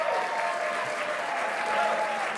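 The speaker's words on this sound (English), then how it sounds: "Let's give the center a big round of applause." Steady, even applause from the audience at a Huntington Beach city council meeting, a continuous wash of many hands clapping without a break.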